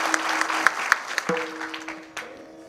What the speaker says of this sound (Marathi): तुम्ही तुमच्यासाठीच टाळी वाजवा एकदा.